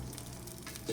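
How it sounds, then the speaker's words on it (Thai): Eggs sizzle and crackle steadily in melted butter in a pan, a soft continuous frying hiss heard up close with no talking. "เนยละลายแล้วใส่ไข่ได้เลยค่ะ"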